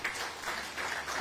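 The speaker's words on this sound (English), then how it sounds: "Please, another round of applause." Conference attendees at ZEDCON 2023, a sustainable-development finance event, give a round of applause after a presentation. The clapping is quiet but continuous, a soft even wash from a sizeable crowd with no voices over it.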